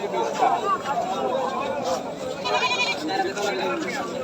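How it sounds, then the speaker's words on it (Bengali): Goats bleat repeatedly amid a busy crowd at an Eid livestock market in Haluaghat, their wavering cries rising over steady chatter and people talking nearby. "কি পরিমাণ ছাগল আর কি পরিমাণ দেখছো হ্যাঁ অনেক ছাগল"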